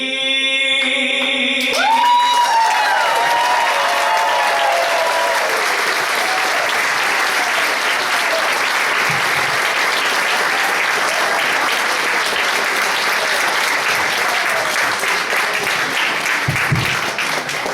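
Audience at a spring Irish dancing show breaks into sustained, loud applause right after a performance, a dense wash of clapping that holds steady for many seconds with a few faint cheers.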